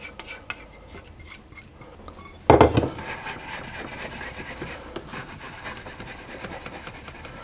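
Chocolate cake batter is shaken level in a cake pan, a sudden burst of rattling and scraping that starts sharply and settles into a continuous rough rubbing noise.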